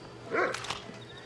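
A dog barks in the Red Dead Redemption video game, giving a short burst of a bark or two at moderate distance over quiet background ambience, with no speech.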